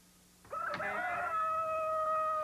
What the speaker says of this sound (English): at next morning's cockcrow